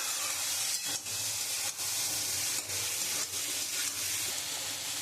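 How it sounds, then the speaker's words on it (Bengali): Potatoes sautéing with spices in a pan for Bengali fish curry, a steady close hiss of frying broken by a few brief stirring scrapes. "এবারে আলুটা দিয়ে আমি খুব ভালো করে একটু কষিয়ে নেব।"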